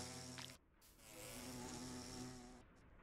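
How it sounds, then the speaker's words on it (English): A bee buzzing in the video game Minecraft, modded with All The Mods 8: a close, steady insect drone with harmonic tone, briefly dipping and returning, alone without talk. "It's a little bee. Look at it."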